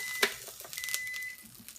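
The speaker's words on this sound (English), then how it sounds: "Oh, there's our timer." Kitchen timer beeping during waffle-making, a thin electronic tone sounding in short bursts and a longer held beep amid faint kitchen clatter and handling noise.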